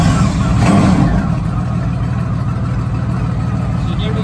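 A warmed-up motorbike engine running at a steady idle, a loud continuous low rumble close by with a brief swell near the start.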